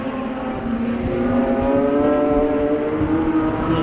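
Audi and Porsche race cars in a pack on a circuit at a National Extreme Festival round, engines droning loud and steady with rising revs throughout, no voices.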